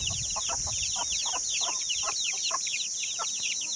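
Young free-range chicks, about one to one and a half months old, cluck and peep repeatedly in short, quick calls over a steady high-pitched background hum.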